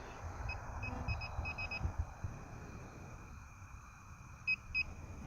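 A metal detector swept over a buried modern roofing nail while digging near a historic house, giving a string of short, high electronic beeps in quick clusters, then two more near the end, over low outdoor rumble and handling noise.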